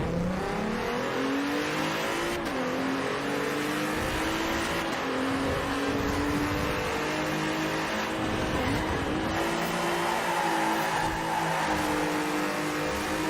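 A Nissan 300ZX races and drifts in Forza Horizon 4, its engine droning and rising in pitch through gear changes, with brief tire squeal around a corner, loud and steady throughout.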